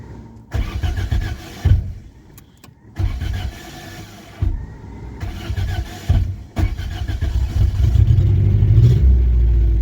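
A Peugeot 306 engine cranks in short starter bursts, catches, and settles into a running idle that swells louder toward the end.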